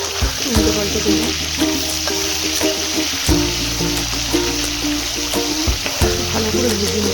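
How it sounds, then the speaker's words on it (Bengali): Fish pieces fry in hot mustard oil in a wok, giving a steady close sizzle with crackling spatter and occasional clinks of a utensil stirring, without any talking. "ভালো করে ভেজে নিতে হবে লাল করে।"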